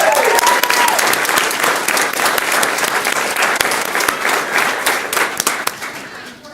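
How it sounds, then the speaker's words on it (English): At a school governing board meeting, the audience gives honored students a round of applause: loud, dense clapping from many people, continuous and steady across the clip with a few sharper claps near the end. "We can give them a round of applause"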